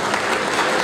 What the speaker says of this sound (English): A big, big round of applause for all of you guys.